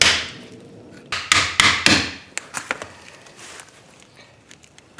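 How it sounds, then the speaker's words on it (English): Several sharp metallic hammer knocks on a CV axle boot clip, three loud strikes in quick succession followed by lighter taps, close by with no talking. "Knock it with a hammer."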